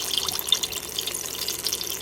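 Hot cooking oil bubbles and sizzles as pieces of scallion, thyme and garlic drop in, a close, crackling fizz that flickers steadily.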